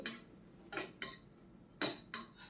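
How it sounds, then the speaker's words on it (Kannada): Metal spoon clinking and scraping against a pan as green chillies and gongura leaves are sautéed and stirred, about five short, sharp strikes at uneven intervals, fairly close, with no voices. "ನಾನಿಲ್ಲಿ ಎರಡು ಹಸಿ ಮೆಣಸಿನಕಾಯಿಯನ್ನು ಇದಕ್ಕೆ ಸೇರಿಸಿ ಬಾಡಿಸ್ತಾ ಇದ್ದೀನಿ"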